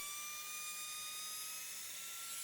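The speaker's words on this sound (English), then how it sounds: "A drum sander in my drill press made quick work of cleaning the corners" A drum sander spins in a drill press cleaning up plywood corners, a steady high-pitched motor whine with sustained tonal hum and no talking.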